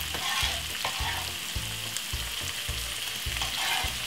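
White onion, mixed peppers, garlic and spring onion fry in a pan alongside meatballs, a steady crackling sizzle with rhythmic low scraping strokes as the vegetables are stirred.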